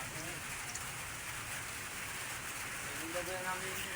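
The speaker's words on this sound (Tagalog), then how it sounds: "ulan-ulan na pod" Rain falls steadily outdoors as a soft, even hiss at low level, continuous throughout with faint voices in the background.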